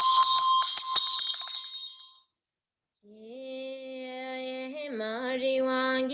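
A ritual bell rings repeatedly with bright metallic strikes for about two seconds, then falls silent before a sustained chanted or sung voice begins.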